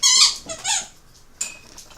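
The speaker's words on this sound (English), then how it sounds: "Usually these squeaky piggies, which fit puppy nose quite well" A squeaky toy pig being played with by a puppy gives several high, wheezy squeaks in quick succession, then a pause and one more sharp squeak, close and fairly loud with no talking.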